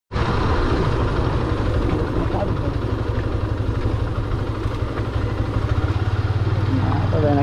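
Motorcycle engine rumbling steadily on a road ride toward Sylhet, Bangladesh, a continuous loud drone with wind and clatter throughout, brief passing traffic sounds near the end.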